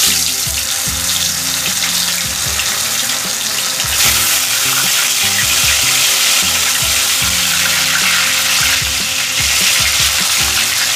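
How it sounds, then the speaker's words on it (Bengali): Bhola fish frying in hot oil in a wok, a steady loud crackling sizzle running throughout, with clinks of utensils and no talking. "মাছটাকে ভালো করে ভেজে নিচ্ছি।"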